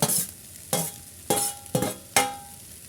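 A spoon scrapes and stirs fried bitter gourd (karela) into spice masala in a pan, four distinct stirring strokes at an unhurried pace over a soft, steady sizzle.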